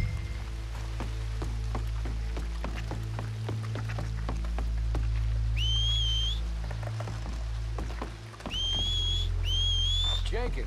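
Two short rising whistles cut through a steady rainy ambience in Red Dead Redemption 2, the second a quick double burst, with faint scattered ticks and drips beneath.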